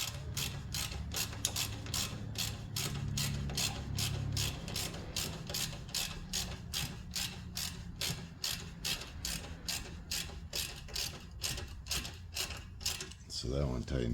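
A ratchet with an 8mm socket tightens exhaust clamp bolts during a flex pipe repair, giving a long run of evenly spaced, close mechanical clicks that carry on throughout.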